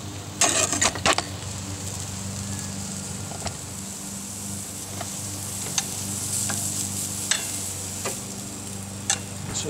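Italian sausage fries steadily in a pan for peppers and onions, giving a continuous close sizzle with scattered sharp ticks and clicks, like a utensil touching the pan, and no talking.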